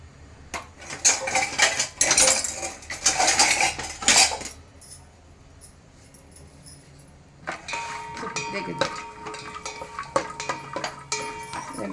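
A spoon scrapes and clinks against a pan while cashews fry in ghee, bursts of metallic stirring coming in clusters, pausing, then resuming with lighter rattling clinks close up.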